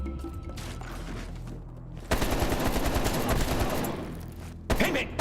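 Rapid automatic machine gun fire in the Call of Duty: Black Ops Cold War video game, loud sustained bursts starting after quieter game ambience, then a brief pause and another burst.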